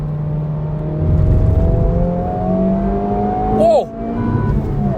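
A 2023 Honda Civic Type R accelerates with a loud engine whose pitch climbs steadily through the revs, then dips sharply at a gear change before pulling again, heard from inside the car.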